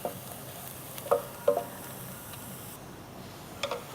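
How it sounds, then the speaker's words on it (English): Shallots browning in a pan for a Malaysian dish, a soft continuous sizzle broken by a few light clicks of stirring, fairly quiet and without talk. "So now you can see the shallots are getting browned"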